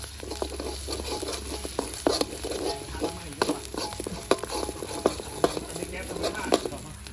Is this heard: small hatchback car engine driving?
no